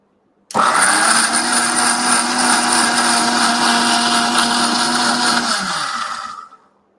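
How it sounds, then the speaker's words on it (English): A blender runs at medium speed, pureeing blueberries for a cheesecake topping. A loud, steady whirring motor starts abruptly, holds for about six seconds, then winds down to silence. "I'm just going to go on a medium speed, going to grind it and then make a puree out of the blueberry."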